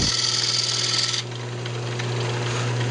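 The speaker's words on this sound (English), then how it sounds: "we're just going to go ahead and turn this, shape the front here." Redwood lamp blank spinning on a wood lathe while a tool shapes the front, producing a harsh, close scraping hiss over a steady motor hum that drops to a duller, continuous cutting rasp.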